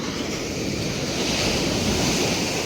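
Large ocean waves surge and crash close by near a fishing boat, a steady loud roar of surf mixed with gusting wind buffeting the microphone, with no voices.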